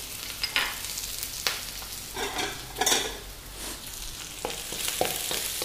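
Onion and green chilli sautéing in hot oil for a vegetable porcupine dish, making a continuous close sizzle broken by intermittent stirring scrapes, with no voices.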